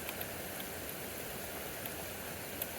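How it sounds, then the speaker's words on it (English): Small hail pitter-patters through a severe thunderstorm, a continuous hiss of tiny impacts with occasional sharper ticks, close and steady with no voices. "pitter patter you just heard, that's hail."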